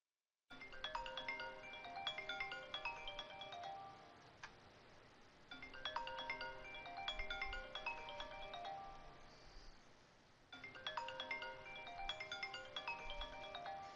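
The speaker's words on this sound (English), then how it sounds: "Of course, my phone's going to ring right in the middle of a trade here." A mobile phone ringtone rings in three repeating bursts of bright chiming melodic notes, each lasting about four to five seconds with short near-silent gaps between, moderately loud and close with no talking.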